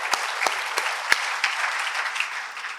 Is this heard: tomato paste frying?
no